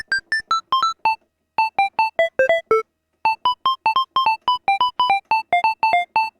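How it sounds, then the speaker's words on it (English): Bright, bell-like glockenspiel notes from a Casio MT-30 keyboard play quick short melodic runs, each tone ringing briefly, with a pause partway through. "Glockenspiel. It's the same as xylophone and celesta, but it's more like a popcorn kind of sound."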